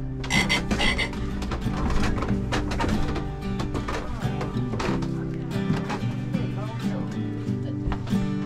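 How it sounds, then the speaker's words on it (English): A frog croaks repeatedly outdoors, with loud, close, rhythmic calls running through the whole stretch, while people talk over it. "That's what you heard, is a ribbit."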